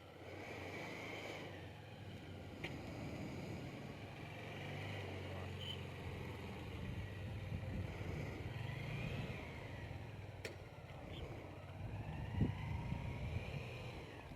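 A motorcycle engine hums along as the bike rides, with a faint steady drone and a slight rise toward the end, plus a few sharp clicks and knocks; no talk is heard.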